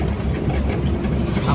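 A train runs on the railway beneath the Patna bridge over the Ganga, heard as a steady, loud low rumble with a faint clatter and no gaps.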